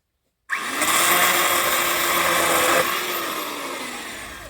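A power saw cutting firewood starts abruptly and runs loud and close with a steady high whine, easing slightly toward the end.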